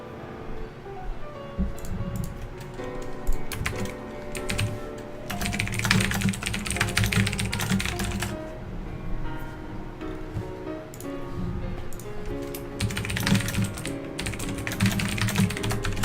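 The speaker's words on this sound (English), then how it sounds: "sorry for the loud typing" Loud clattering of a computer keyboard under rapid typing, running steadily in close, dense bursts of key taps with brief slower stretches.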